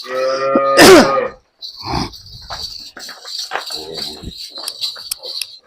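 A cow or buffalo on a Punjabi farm at evening milking time gives one loud, close lowing call, followed by quieter farmyard clatter and faint voices.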